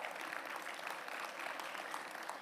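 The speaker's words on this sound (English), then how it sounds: "Let's welcome him with a huge round of applause" Dense, steady applause from an audience welcoming a Group Captain astronaut onto the stage at a National Space Day ceremony, a continuous even clatter of many hands with no voices over it.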